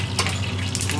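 Chicken pieces frying in bubbling oil over a low gas flame, restaurant-style garlic chilli chicken, a steady close crackling sizzle with no talk.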